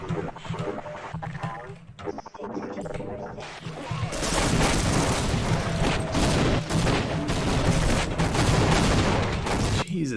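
Grenades burst one after another in a first-person shooter game: scattered thuds at first, then a dense, loud barrage of overlapping explosions and gunfire that keeps rolling to the end.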